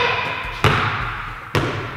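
A basketball thuds twice on a hard surface during a shooting challenge, two sharp separate impacts close by over low room noise.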